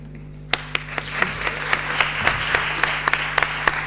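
Audience applause in a hall at a constitutional justice conference session, a steady wash of many hands with several sharp, close individual claps standing out, no speech over it.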